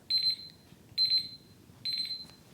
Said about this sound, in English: here's our timer